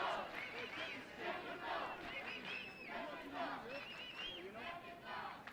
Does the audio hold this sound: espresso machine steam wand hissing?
no